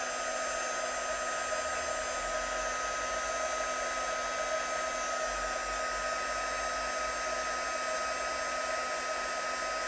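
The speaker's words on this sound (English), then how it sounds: "we're just going to heat with our heat tool" A heat tool blows hot air onto silver embossing powder on a card, a steady close whirring fan hum with a high whine, unbroken throughout, no talking.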